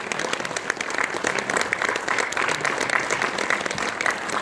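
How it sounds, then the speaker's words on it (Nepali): Continuing applause from a premiere audience honouring a film director at a mall event, thick steady clapping from many hands throughout, close and lively with a hint of crowd murmur. "सम्मानमा बज्ने तालीहरू निरन्तर बजेको राम्रो नि होइन?"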